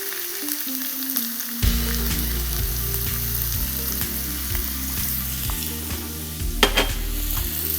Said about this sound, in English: So I'm going to add my onions, and you want to hear that nice sizzle